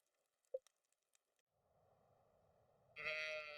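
Sheep on a video game farm give a short bleat after some faint clicks, then a steady murmur leads into a louder, sustained bleating call at the end.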